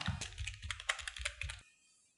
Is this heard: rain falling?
no